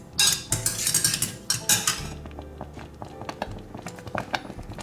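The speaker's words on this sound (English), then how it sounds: "now we can squish them with our potato masher" A potato masher squishes cooked strawberries in a pot, giving wet squelching thuds and metallic knocks against the pot in an irregular rhythm, loud and close at first, then lighter taps toward the end.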